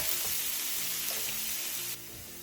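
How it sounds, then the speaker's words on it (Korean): Zucchini stir-frying in a pan gives a continuous soft sizzle with faint stirring scrapes, dropping slightly quieter near the end, no voices. "호박의 숨이 완전히 죽을 때까지 볶아주세요"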